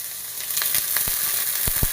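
Chopped onion drops into hot oil in a pan for a koval (ivy gourd) thoran, giving a steady close sizzle dotted with sharp pops and crackles.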